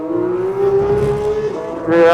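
A car on Hoosier Track Attack Pro tires runs a hot lap on a race track, its engine droning steadily close by with a rising pitch as it accelerates near the end.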